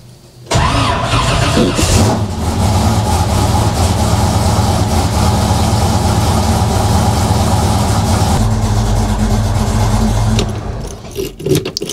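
A car engine fitted with Holley Sniper EFI cranks and fires, then runs at a loud, steady idle close by for about ten seconds, with a change in tone partway through before cutting off.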